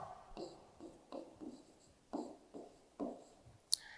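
Chalk or pen scratching out a short word on a classroom board, several brief strokes with small pauses between, close and fairly quiet, with no talking.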